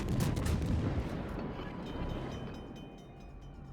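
Heavy, booming gunfire from a North Carolina battleship firing high-explosive shells at a cruiser in World of Warships, loud rumbling blasts up front that fade into a lingering low roar.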